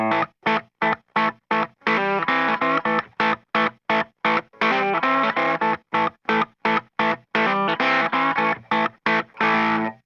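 A distorted electric guitar plays a blues riff with a slight quarter-tone bend, played as short, choppy bursts separated by brief gaps, loud and up front with no talk.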